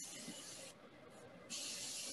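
An airbrush sprays paint onto the edge of a wood turning, giving a steady high hiss. The hiss drops away for a moment partway through, then comes back strongly close to the mic.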